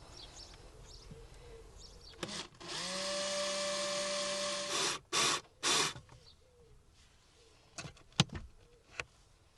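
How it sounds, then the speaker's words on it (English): A power drill whirs loudly for a couple of seconds drilling into wood inside a VW camper, then gives two short bursts, followed by quieter knocks and handling clicks. "Another quick little job while I've got the drill out."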